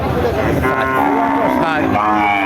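A cow at a busy cattle market lets out a loud, sustained moo that fills the whole moment close to the listener, with a hum of crowd noise underneath.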